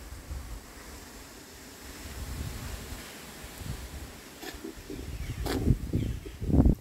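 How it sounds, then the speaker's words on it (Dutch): Wind blows through summer garden plants and ornamental grasses such as blue fescue, a steady outdoor rush that swells into louder gusts toward the end. "Hoor het eens waaien."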